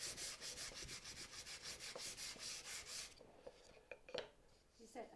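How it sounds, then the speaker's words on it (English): Wood is sanded flat by hand with coarse 100 grit sandpaper, a rhythmic series of close, rasping back-and-forth strokes for about three seconds, followed by a few light knocks and handling sounds. "the sandpaper that I'm using here is just a piece of coarse 100 actually"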